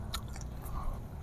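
Crunchy fried chicken bitten and chewed up close, a few sharp, crisp crunches in quick succession over a low background, with no talking.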